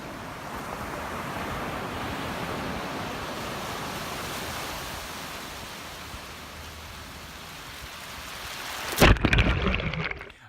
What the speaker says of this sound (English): I did shoot some video of the waves